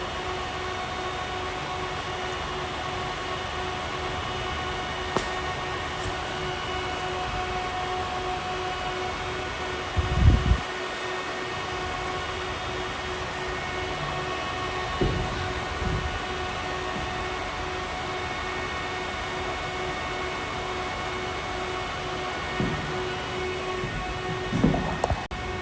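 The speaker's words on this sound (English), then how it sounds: "you're going to be watching train 1610 coming into view here from Grand Central to Huntington" An LIRR commuter train, number 1610 running from Grand Central to Huntington, approaches a station during the morning rush, a steady distant hum with a few faint thumps and clanks over a constant tonal drone.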